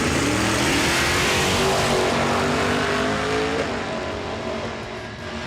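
A Ford pickup truck and a Camaro drag race at Lonestar Motorsports, their engines roaring loud with rising, sweeping revs before the sound gradually fades.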